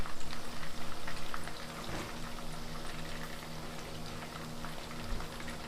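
Chicken legs fry in a pan with a dense, steady sizzle and crackle like light rain. Bubbling and spatter are louder and choppier at first, then settle into an even hiss.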